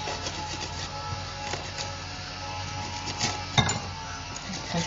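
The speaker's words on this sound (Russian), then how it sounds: "Можно просто срезать вот так крышечку." A knife cuts the tops off bell peppers to remove the cores, giving soft scraping and rubbing with small clinks and a sharper tap or two, close and quiet, with no talking.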